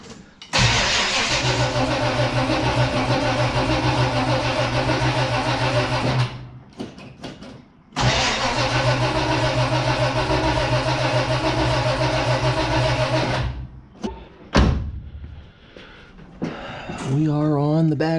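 A 1969 Chevrolet Nova engine cranks and fires, running loud with a steady rumble for several seconds, cuts out, then starts again and runs before dying, with people talking near the end.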